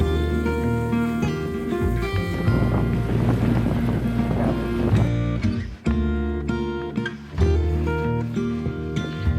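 A sailboat moves under sail off the Sunshine Coast of British Columbia, with steady wind buffeting the microphone and water rushing past the hull, plus a sustained musical tone, loud and continuous throughout with no talking.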